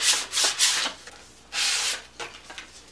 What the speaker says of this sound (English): all I do here is just sand the inside like so